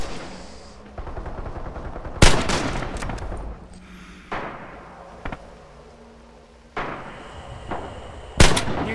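Machine gun fire in the Red Orchestra 2 battle game, loud sharp bursts and single cracks recurring with gaps, over a dull, continuous battlefield rumble.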